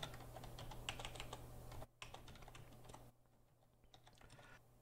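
Keys clatter in quick, uneven bursts as a command is typed on a computer keyboard, faint and close with a steady low hum beneath and a brief gap partway through.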